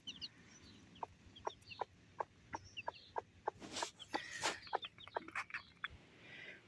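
Newly hatched chicks, some of them a curly-feathered breed, cheep in a quick run of sharp, evenly spaced peeps while a rooster clucks nearby, all close and fairly faint with no talk.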